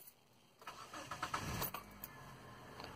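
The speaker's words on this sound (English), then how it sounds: "So I'm gonna go ahead and start it up." A 2002–2007 Mitsubishi Lancer with an F4A42 automatic transmission cranks and starts after a quiet moment, then settles into a steady idle.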